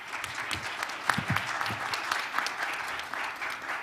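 Warm applause from a conference audience at a Summit for Democracy regional meeting, greeting a keynote speaker; steady dense clapping throughout, moderately loud and even, with a brief murmur of voices underneath early on.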